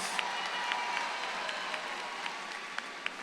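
Applause for a graduating honors college class of 2025 at a university commencement ceremony, a quiet, steady patter of distant crowd clapping with a few sharper individual claps standing out.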